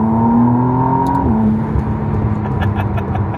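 A McLaren Artura Spider supercar accelerates, its engine drone climbing steadily in pitch, then dropping briefly at a gear change before holding a loud, close, even hum.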